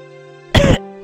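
A single short cough, loud and close, cutting through a steady electronic music drone, followed by the start of another brief burst at the very end.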